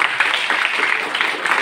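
An audience at a school welcome address gives brief applause, a dense, steady patter of many hands clapping.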